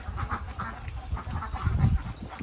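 Ducks quacking at a laying duck farm, a dense flock calling continuously with overlapping nasal quacks, fairly close and steady throughout.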